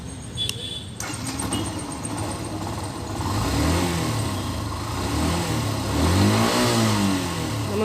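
Yamaha FZ motorcycle engine in a two-wheeler workshop, started and then revved in rising and falling sweeps, growing louder through the second half, with a short clatter at the start.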